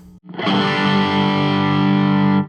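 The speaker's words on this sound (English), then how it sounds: "It's pretty overdriven" A single heavily distorted electric guitar chord through a Browne Amplification ATOM Nashville Overdrive pedal, struck once and left ringing for about two seconds, thick and loud, then cut off abruptly.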